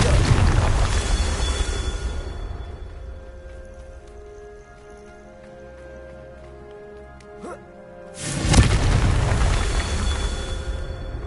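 Fiery Confringo spell blasts in the Hogwarts Legacy video game: two loud booming bursts, one at the start and one near the end, with a quieter stretch of game ambience between them.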